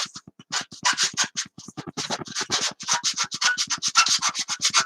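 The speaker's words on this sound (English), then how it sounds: "That tail surface, white sandpaper here." White sandpaper rubs back and forth over the tail surface of a 1/72 scale vacuform Hawker Siddeley Nimrod model, a close, steady run of quick rasping strokes with short gaps between them, with no one speaking.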